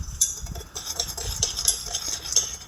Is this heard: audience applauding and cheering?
no